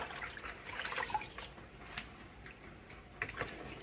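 Young spinach leaves rinsed under water at a kitchen sink, a faint trickle with scattered drips and soft splashes, quiet and close.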